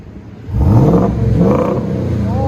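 A 2020 Ford F-350 with a 7.3L V8 gas engine revs through a Borla XR-1 exhaust with dual-in, single-out piping, a resonator and a large muffler. It swells from idle into a loud, deep, sustained rev up close.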